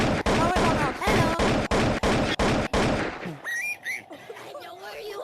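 Rapid gunfire in a shooting video game, a loud run of about eight evenly spaced shots that stops abruptly, followed by quieter game sounds and faint electronic tones.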